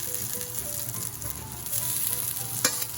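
Garlic and ginger fry in a hot pan on the stove, making a loud, steady close-up sizzle with faint stirring and a sharp utensil tap near the end, and no talk.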